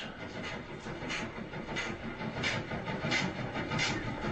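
A 60-year-old railway engine approaches on a heritage line, a faint, muffled chugging rumble with a regular pulsing beat growing slightly louder as it nears.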